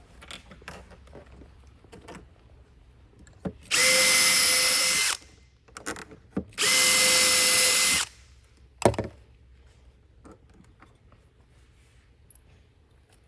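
A power drill driving screws during a Rockford desk install whirs in two loud, sustained bursts of a few seconds each, close up, separated by brief pauses and surrounded by quieter handling clicks and knocks.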